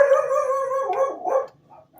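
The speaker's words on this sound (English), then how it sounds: "sorry about my dog" Indoors in a home kitchen, a dog lets out one loud, close, drawn-out howling bark lasting about a second and a half, then falls quiet.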